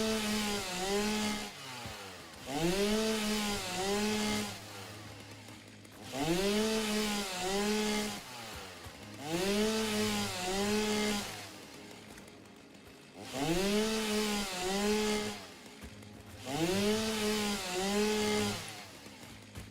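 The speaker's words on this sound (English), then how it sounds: "I like to use the chainsaw to get like big clumps" In the game Satisfactory, a chainsaw clearing plants revs in repeated loud bursts with short pauses between them, a steady rhythmic buzzing rise and fall.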